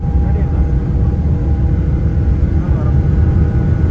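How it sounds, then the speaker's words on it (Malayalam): A loud, steady roar of jet engines fills the cabin as an airplane takes off, with a voice heard faintly beneath the rumble. "അപ്പോൾ ഇതേ നമ്മുടെ ഫ്ലൈറ്റ് പറന്നുയർന്നുകൊണ്ടിരിക്കുകയാണ്"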